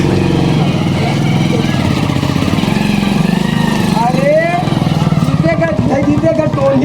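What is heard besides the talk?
motorcycle engine running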